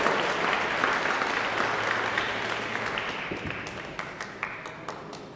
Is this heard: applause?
yes